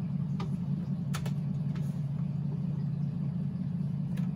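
A car engine idles in a driving video game played with a Logitech G27 wheel, giving a steady low rumble at constant volume with a few faint clicks over it.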